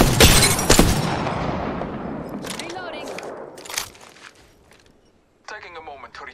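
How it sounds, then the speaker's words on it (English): Gunfire in an Apex Legends ranked match, loud sharp shots at the start that trail off into fading echoes, then a few more bursts later, with a character's voice speaking near the end. "I am taking fire."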